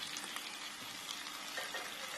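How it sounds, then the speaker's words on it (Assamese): Fish pieces frying in a pan, a continuous crackling sizzle with occasional louder pops, close and fairly soft, with no voices. "মাছকেইপিচ ফ্ৰাই কৰা হৈছে"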